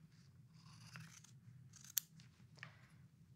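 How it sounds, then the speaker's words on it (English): Fabric scissors cutting straight down a seam while shortening a suit jacket, a faint series of close snips and crunching cuts over a low steady hum, with one sharper snip near the middle. "I am actually going to cut straight down."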